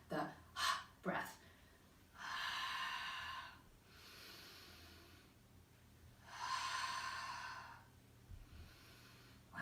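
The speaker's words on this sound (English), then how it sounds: "Exhale and inhale." During a seated core exercise, a person takes deep breaths. Two long, audible exhales, or breaths through the nose, stand out clearly after a few short sniffs at the start, all near and fairly soft.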